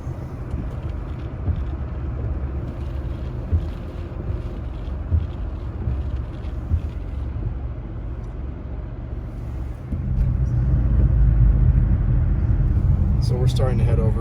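A car drives through a snowstorm in Big Bear Lake, California, with a steady engine and road rumble plus wind buffeting that grows louder partway through, while a person talks over it.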